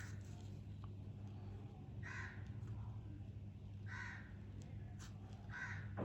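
A crow caws several times in harsh, separate bursts at moderate distance, outside a quiet room where a calligraphy lesson is underway, over a steady low hum with no talking.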